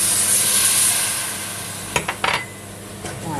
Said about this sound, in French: Alors, on déglace au vin blanc.